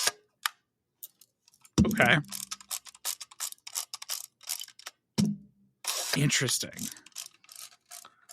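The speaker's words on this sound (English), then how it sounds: "It is a swing lens panoramic camera." Soviet Horizon swing-lens panoramic film camera gives a mechanical whir and clicking ratchet sound as its lens swings, followed by further winding and clicking bursts close up, with brief talk in between.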